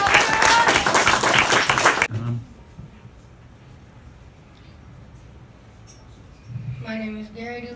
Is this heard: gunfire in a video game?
no